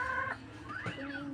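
Chickens cluck and call close by, a few overlapping squawks and rising clucks in quick succession over a noisy outdoor background.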